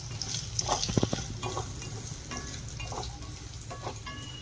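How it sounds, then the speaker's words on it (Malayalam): Coconut pieces fry in hot oil for a spicy mushroom roast, a soft, close sizzle with a few light stirring scrapes over a few seconds, with no voices. "ഓയിലൊന്ന് ചൂടായ ആദ്യം ഈ തേങ്ങാക്കൊത്ത് ഇതിലേക്ക് ഇടാം"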